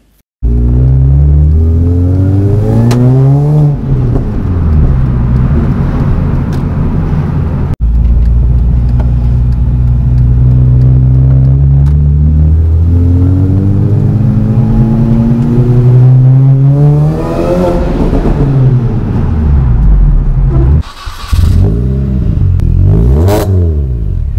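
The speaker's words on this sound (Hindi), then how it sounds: "अब थोड़ा सा इंजन और एग्जॉस्ट साउंड का मज़ा लेते हैं" Modified Mini Cooper S R53 engine and exhaust revving hard, loud close-up sweeps rising and falling repeatedly over about twenty seconds with sharp blips near the end, no voices.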